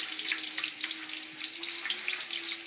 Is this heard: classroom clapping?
no